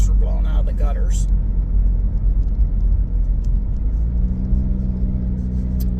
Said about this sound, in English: I started blowing the leaves from the front yard.